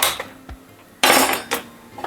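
A metal pan lid and an iron griddle for thalipeeth are handled on a gas stove. Sharp clanks and knocks ring out close by, with a loud clatter at the middle and another clink shortly after.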